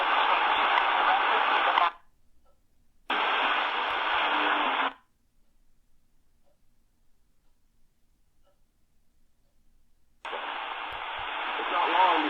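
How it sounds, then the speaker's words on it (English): Shortwave radio static from an Eton Grundig Executive Traveler portable, loud hissing bursts of a few seconds each separated by long near-silent gaps. "I think that's a static."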